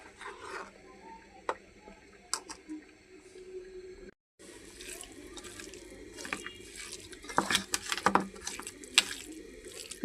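Water running and splashing into a pot for morning tea in a home kitchen, coming in uneven bursts with a brief pause partway through, fairly close and quiet, with no one talking.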